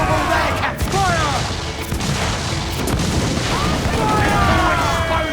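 Ship cannons boom in a naval battle in Assassin's Creed IV Black Flag, several heavy blasts spaced across a few seconds amid crashing noise, with crew voices shouting over the gunfire.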